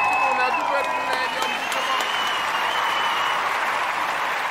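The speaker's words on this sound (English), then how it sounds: "I'm going to give all of the Umoja babies a round of applause" Audience applause for the Umoja children at a storytelling talk, a steady dense wash of clapping that runs the whole time, with a voice calling out over the first part.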